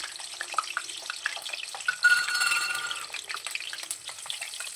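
Three eggs with salt and turmeric frying lightly in hot oil, giving a continuous crackling sizzle with brief stirring scrapes, close and moderately loud, with no voices.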